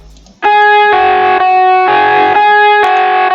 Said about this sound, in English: So this is the reverb